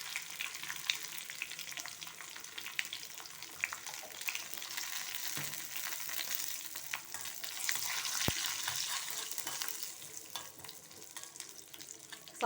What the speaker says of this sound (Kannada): ಸಾಸಿವೆ ಸಿಡಿತಾ ಇದೆ ಫ್ರೆಂಡ್ಸ್.